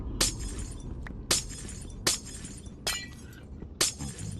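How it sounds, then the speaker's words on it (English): Five sharp, bright glass-shatter bursts at irregular intervals from Minecraft block mining, each a crisp crash with a quick tinkling decay over low background game ambience. "Sounds like glass breaking"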